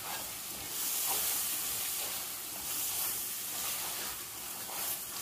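Soy sauce sizzles and hisses in a hot pan while being stirred into rice vermicelli for a lamb méchoui dish, a steady broad frying crackle with gentle swells as the noodles are tossed, no talk.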